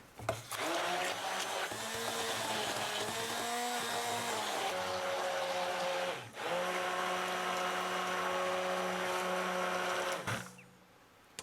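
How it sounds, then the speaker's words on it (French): A blender mixes butter into a lemon crémeux with a loud, steady whirring drone. The motor dips briefly midway, then runs on and cuts off near the end, leaving quiet. "Incorporer petit à petit le beurre et mixer."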